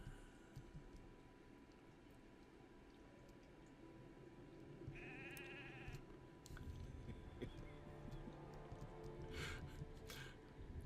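Sheep in the Lord of the Rings Online game bleat among soft ambient game sounds, a short nasal call rising midway and another bleat near the end, both fairly faint.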